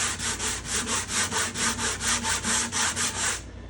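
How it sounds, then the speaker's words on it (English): A wooden guitar bridge being hand-sanded to a concave underside, about twelve steady back-and-forth rasping strokes in even rhythm, close and fairly loud with no talking, stopping just before the end. "It seems like I'm sanding a lot, but it takes quite a bit of sanding to remove the amount that I want."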